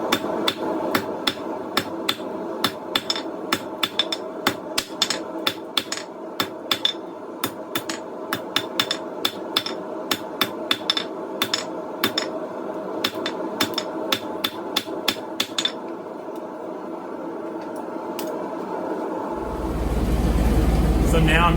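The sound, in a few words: hammer forging coil spring steel into a knife blade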